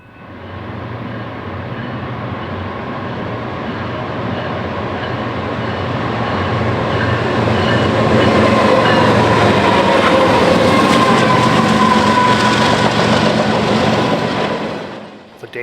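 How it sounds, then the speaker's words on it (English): A BNSF Z intermodal train leaves Cicero on a late-evening westbound run toward Denver, Colorado. Its rumble and clatter swell to a steady roar, hold close by, then drop off abruptly at the end. "Daily Z train to Denver, Colorado has made its ritualistic late evening departure from Cicero and flies west into the night."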